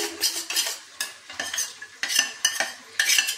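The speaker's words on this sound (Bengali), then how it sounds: "এবারে আমি কর্নফ্লাওয়ারের মধ্যে আরেকটু জল মিশিয়ে নিয়ে গুলে নিচ্ছি" A spoon clinks against a bowl while cornflour is mixed into water for chilli paneer, in quick rhythmic strokes that come in short clustered bursts, close and with no one talking.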